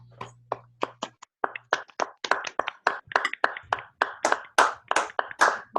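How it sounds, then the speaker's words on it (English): Meetup participants clap together over a video call for a virtual Drupal Chicago meetup, with distinct, uneven individual claps from several unmuted microphones building to a quicker patter, with a brief low hum near the start. "Unmute and all."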